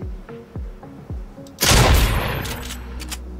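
Fortnite practice session gunfire: a few light shots, then a dense, loud burst of rapid automatic fire that rings out and fades, close and dominant with no talking.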